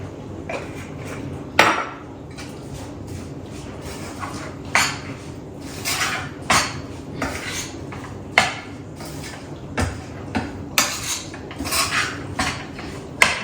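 Sesame laddu mixture with cardamom powder being stirred in a metal pot, with repeated scraping and sharp clinks of a spoon against the pot at an irregular rhythm, close by and without talk.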